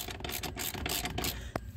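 A ratchet wrench clicks rapidly and steadily at close range while loosening the steering column bolts on a 1976 C3 Corvette during dash disassembly, with a short metallic clank near the end and no talking.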